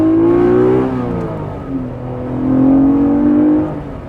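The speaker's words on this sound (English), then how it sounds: "it has a beautiful sound, this car does" A Honda NSX engine revs loud and close, rising in pitch, dipping back, then climbing again into a long sustained high note before easing off, with no talk over it.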